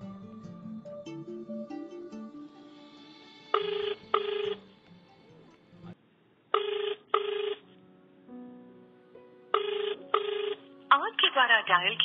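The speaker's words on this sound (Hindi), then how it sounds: "फोन क्यों नहीं उठा रही है, क्या हो गया इसको?" A phone call rings out unanswered in three pairs of electronic ring bursts with pauses between them, after a tone-like dialing sequence. A final warbling signal follows, and the ringing stands alone.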